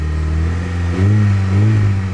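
A third-generation Honda Prelude engine runs at a fairly high idle, its steady, close drone swelling briefly twice with slight revs, loud and alone with no talk.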